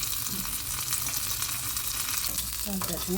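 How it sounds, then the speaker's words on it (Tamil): Mustard seeds, urad dal, cumin and curry leaves crackle in hot oil for a groundnut chutney tempering, a dense steady sizzle throughout with a brief voice near the end. "எண்ணெய் கொஞ்சமாக ஊற்றிட்டு அந்த சூடு எண்ணெய் தான் என்னென்ன போட்டிருக்கிறீங்க கடுகு உளுந்து கொஞ்சம் சீரகம் போட்டிருந்தாங்க கருவேப்பிலை போட்டுட்டு தாளிச்சுங்க"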